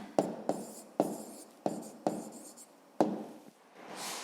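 A pen writes an answer on paper, making several crisp scratchy strokes in a loose rhythm, each starting with a sharp tap, heard up close in a quiet room.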